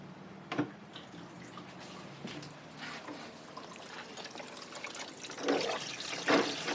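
Water runs from a low-flow RV faucet and drains away, a soft trickling and gurgling stream with a couple of brief louder splashes near the start and toward the end.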